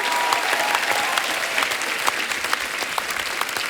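Studio audience applause at a televised Hindi comedy talk show, a dense, steady wash of clapping held at even loudness throughout, with no speech over it.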